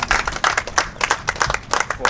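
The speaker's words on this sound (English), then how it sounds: "a round of applause for Mr. and Mrs. Pius." Guests at a wedding registry party break into lively applause, loud and close, with quick clustered claps and brief swells of crowd noise and no clear speech.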